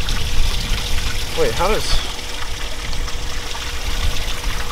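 Water is poured and dumped into a fishing boat's live well at a tournament weigh-in, a continuous close trickling gush under a brief spoken remark.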